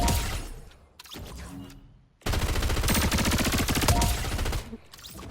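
Rapid SMG gunfire in the video game Fortnite: loud, close bursts of automatic fire, one short volley and then a longer sustained string of shots.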